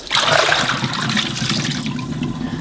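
Cooking water drained from a pot pours out in a steady, close rushing gush that runs continuously for the whole stretch with no talk over it.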